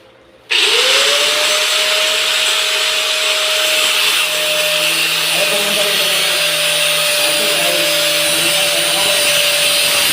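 A grinder spins up abruptly and cuts a PVC ceiling panel, holding a loud, steady high whine with a shifting rasp as it bites the plastic, close by, with faint talk underneath.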